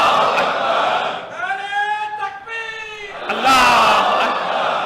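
At a Muharram gathering in an imambargah, a crowd roars a religious slogan in response, with loud massed shouting at the start and end around a single voice calling out in the middle.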